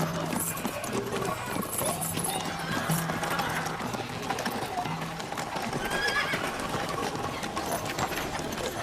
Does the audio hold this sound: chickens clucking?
no